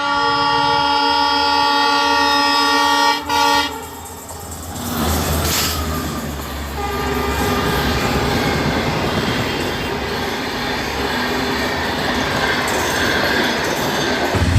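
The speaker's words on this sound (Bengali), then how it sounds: "দেখুন নদীর ওপর দিয়ে কীভাবে ট্রেন গতি স্পিডে ছুটছে" An intercity express train running over a river bridge in Assam, starting with a long loud horn blast, then a steady heavy rumble and rattle of wheels on the track that carries on to the end.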